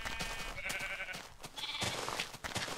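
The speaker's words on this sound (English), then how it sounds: "Sheep eat grass now, and they regrow their wool." Sheep bleat in Minecraft, several short wavering bleats at moderate level over a busy, noisy game background.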